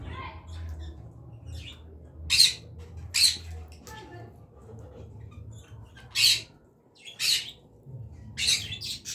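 Caged birds squawk at night in a bird room near a small fire, giving several short, loud, separate bursts spread across the clip over a low rumbling background.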